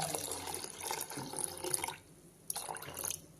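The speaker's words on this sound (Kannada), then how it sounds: "ಸ್ವಲ್ಪ ನೀರು ಹಾಕ್ತಾ ಇದ್ದೇನೆ." Water pours into a pot of tomato rasam in a steady, faint stream, stops briefly, then splashes again for a short moment.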